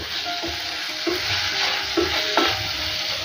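Vegetables stir-fried with chilli sauce in a pan over a low flame: a steady broadband sizzle, with several short scraping stir strokes spaced through it, close up and with no talking.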